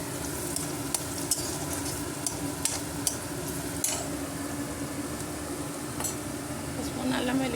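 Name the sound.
turmeric and ginger-garlic paste added to hot pan, sizzling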